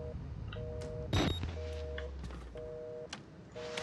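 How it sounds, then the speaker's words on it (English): An in-game telephone gives faint, repeated electronic beeps in a video game, short double tones returning at even intervals under a low background hum, with a brief louder thump partway through. "I swear to god, I heard a phone. Not ringing, but like... Beep, beep."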